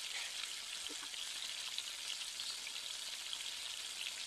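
Cauliflower and potato frying in oil left over from frying fish, a steady, dense hiss and sizzle at low volume with no other sounds.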